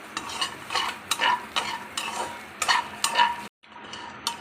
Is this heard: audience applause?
no